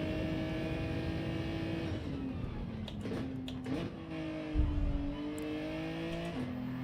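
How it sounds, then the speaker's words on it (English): A race car engine in the Gran Turismo video game revs continuously at high pitch in third gear, the tone wavering and dipping slightly as it holds steady, loud and close with no talking. "that's painful listening to that revving out there endlessly in third"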